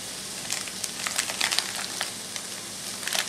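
Browned ground meat fries with onions and garlic in a pan, giving a steady close sizzle broken by scattered sharp pops and crackles, with no talking.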